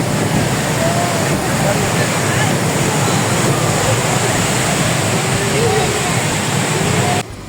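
The Rhine Falls in Switzerland, heard from very close, roaring as a dense, steady, loud wash of water that drops off abruptly at the end.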